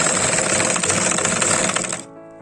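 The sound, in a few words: sewing machine stitching the edges of a frog dress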